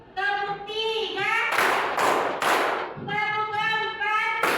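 A group of people claps in bursts of broadband slaps, set off by stretches of a tonal, harmonic sound. The clapping is loud and close, with a few short rounds.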